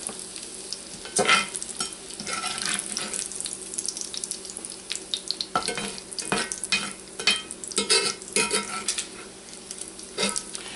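Bacon sizzling and crackling in a cast iron skillet, a steady close fry with bursts of spatter and scraping, no voices over it.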